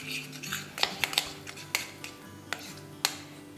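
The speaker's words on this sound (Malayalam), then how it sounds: "ചിക്കൻ മസാല ആഡ് ചെയ്ത് കൊടുക്കാം. ഇനി ഇത് നമുക്ക് നന്നായി മിക്സ് ചെയ്തെടുക്കാം." Chicken pieces being stirred with chicken masala in a bowl for grilled chicken, with sharp, close spoon clinks against the bowl at irregular intervals over a steady low hum.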